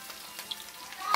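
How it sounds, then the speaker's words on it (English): Pink snapper fried in hot oil on medium heat gives a soft, steady sizzle with small crackling pops, close but fairly quiet, swelling slightly at the end. "So you leave it in this oil and let it fry"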